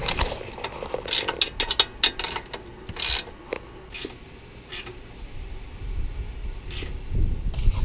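A ratchet wrench tightens nuts on an oEdRo LED light bar mount, giving short bursts of close clicking strokes with pauses between them, followed by quieter low handling noise.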